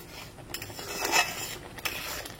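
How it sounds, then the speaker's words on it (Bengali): A spoon scrapes and knocks against a pan while pineapple chutney is stirred, giving soft, quiet scraping strokes with a few light metallic taps, close but low in level. "এবার এটাকে একটু নেড়ে নেব।"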